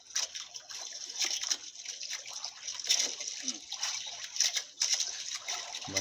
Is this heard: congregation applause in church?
no